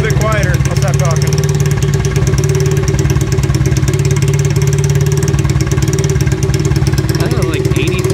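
An engine runs steadily through a test muffler, a loud continuous idle drone throughout, with people talking over it.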